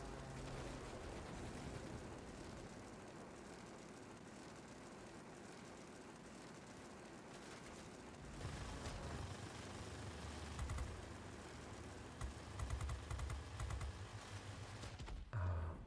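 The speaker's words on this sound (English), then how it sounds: "Somebody was shooting me from behind." Machine-gun fire from an enemy aircraft behind the player in World of Warplanes, dense rattling bursts over a steady engine drone, getting louder and choppier toward the end.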